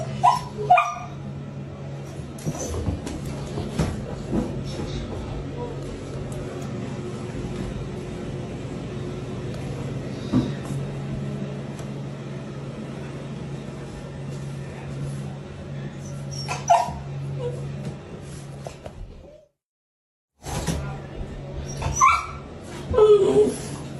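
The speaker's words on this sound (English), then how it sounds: "the family dog began acting in ways that were completely out of character" A family dog barks and whimpers through most of the stretch in a nearby indoor setting, with yips and whines over steady background noise, a brief silent gap near the end, then more restless sound.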